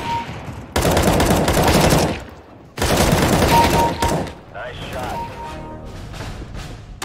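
Rapid bursts of automatic rifle fire from Counter-Strike: Global Offensive gameplay, two loud sustained volleys of shots separated by brief pauses, followed by quieter scattered game sounds.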